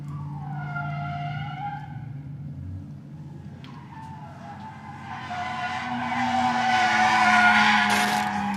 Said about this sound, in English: We're drifting, man. We're drifting.